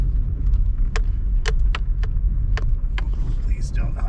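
A car driving slowly along a rough dirt road, with a low rumble throughout and scattered sharp knocks and rattles from the bumpy surface.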